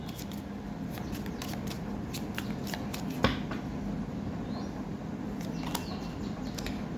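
Tarot cards being drawn one by one from a deck, soft papery slides and flicks close by, with a few sharper snaps, no voice.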